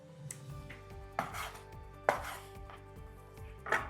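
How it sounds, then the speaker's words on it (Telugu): A knife cuts chicken pieces on a board with a few sharp, distinct chops spaced about a second apart over a quiet kitchen background, close and clear, with no speech. "ఇలా చికెన్ పీసెస్ని కట్ చేసుకోండి."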